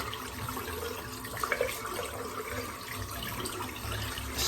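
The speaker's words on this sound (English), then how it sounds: "I'm just going to empty that sink out." Water draining from a bathroom sink after shaving, a steady low gurgling flow with a few brief splashes partway through.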